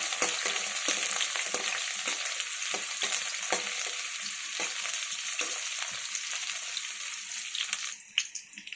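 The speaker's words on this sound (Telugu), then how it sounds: "ఇప్పుడు ఆనియన్స్, బాగా వేయించుకోవాలి." Onions frying in a pan for gongura mutton, a dense, continuous close sizzle with scattered stirring scrapes and taps, easing slightly near the end.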